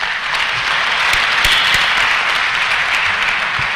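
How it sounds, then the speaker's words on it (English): Dense, steady hand clapping from an audience at a public lecture in a church hall, loud and continuous throughout with no talk over it. "the audience has done it so well, a befitting hand clap, but let it be a bit louder."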